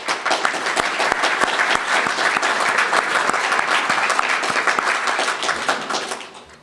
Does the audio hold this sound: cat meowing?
no